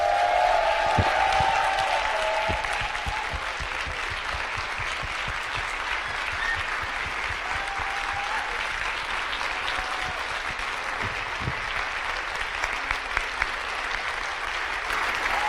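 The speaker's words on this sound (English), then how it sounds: "So let's please give Omri an incredible big applause." Sustained applause fills a live political event for a long stretch, a large crowd clapping steadily with occasional cheers and a brief voice early on.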